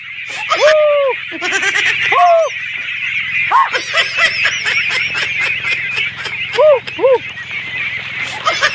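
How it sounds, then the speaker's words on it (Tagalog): Ducks kept on a small farm honk and quack in a loose, overlapping flock close behind, with repeated calls over a steady background murmur. "Kasi yung mga itik ko, andito na po sa likod ko."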